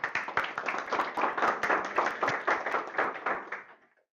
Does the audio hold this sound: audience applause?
yes